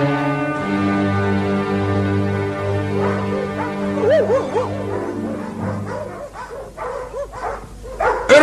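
Several dogs barking and yelping in a lively cluster, loud and close, with sharp overlapping barks building over a low sustained musical drone that fades out partway through.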